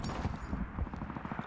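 Rapid, fairly faint automatic gunfire in Call of Duty Vanguard, a steady stream of close-spaced shots over low game ambience.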